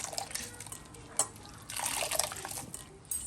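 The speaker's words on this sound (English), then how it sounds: "The more you squeeze, the more milk you will get from the coconut." Grated coconut is squeezed by hand in water to make coconut milk, giving soft, faint liquid squelches and drips with occasional splashes, close and without talk.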